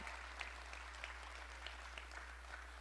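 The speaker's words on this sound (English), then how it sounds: "Give them a round of applause." Faint, distant applause for a family at a city's state of the city address, soft scattered clapping sitting over a low steady electrical hum.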